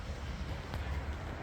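Steady low rumbling wind buffets the microphone outdoors on a street, a continuous dull roar with no voices.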